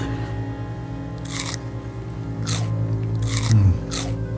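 Several crisp crunches from close-up chewing of a crunchy sandwich come in short bursts over a steady low hum, with no talking.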